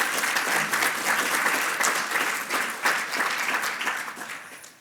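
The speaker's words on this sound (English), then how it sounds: "please can we give her a round of applause?" Audience at a global health security conference applauds steadily for about five seconds, a dense wash of many hands clapping that fades slightly toward the end, with no talking over it.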